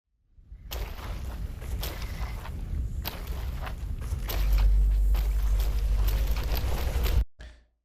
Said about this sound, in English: So right there, footsteps splashing.